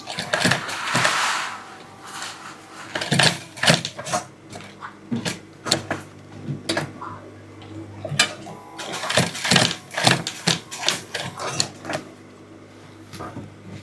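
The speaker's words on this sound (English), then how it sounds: "Then you use your machine to stitch it." A sewing machine stitches taping onto a handmade mule shoe, running in short mechanical bursts of rapid clatter separated by brief pauses and handling knocks, close and fairly loud throughout.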